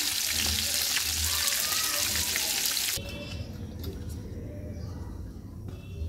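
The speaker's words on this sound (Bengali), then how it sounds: "এখন মাছটা ভাজবো।" Snakehead fish frying in hot oil for a curry with tomato and potato: a loud, dense sizzle for about three seconds, then the hiss drops to a quieter, steady crackle.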